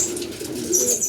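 A racing pigeon, a black check, arriving at the loft during a derby race, with soft repeated cooing and bird calls close by over a steady background murmur.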